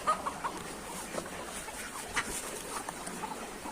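Faint, scattered quacks and soft peeping from ducks and their young, heard at a distance over quiet outdoor background.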